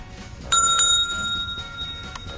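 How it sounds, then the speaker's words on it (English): A bicycle-style bell rung at a student advisor's office, two quick bright rings close together followed by a fading shimmer, then a faint softer ding, alone without talk. "we'll ring the bell and we'll see what happens."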